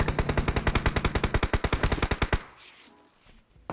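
Rapid automatic gunfire in PUBG Mobile, a fast burst of about twenty-five evenly spaced loud shots over roughly two and a half seconds, then a sudden stop leaving faint game ambience.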